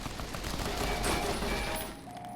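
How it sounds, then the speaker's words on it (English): A grenade launcher firing in a video game gives a dense, rumbling blast of explosive noise that swells and then fades over about two seconds, with no talking. "What the hell are you doing with a grenade launcher?"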